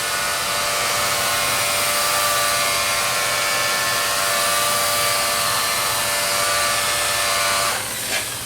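A polisher spins 800 grit pads across granite, a loud steady high-pitched whir that holds evenly for about eight seconds before easing off near the end, close with no voices.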